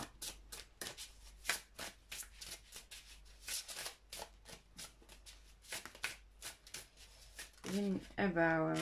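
Tarot cards shuffled and drawn during a reading, crisp repeated riffling and slapping of cards close by, ending with a voice starting to speak over the last shuffle.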